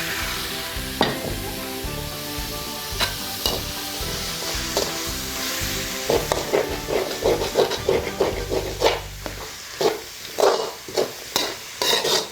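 Eggs stirred into chicken noodles and vegetables in a hot pan, with sizzling frying and a run of rhythmic scraping, tossing strokes that grow busier toward the end, close and alone without talking.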